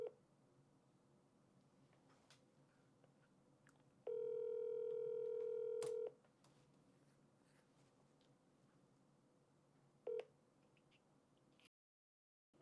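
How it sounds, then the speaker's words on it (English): A telephone call being placed: a faint steady hum, then a clear tone of about two seconds, a brief beep near the end and a cut to silence, heard alone without talk. "We dial another one and then we'll see."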